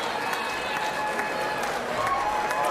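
Large, noisy crowd at a Tasmanian state election night event, a dense sustained roar of voices with scattered clapping and cheering filling the space throughout.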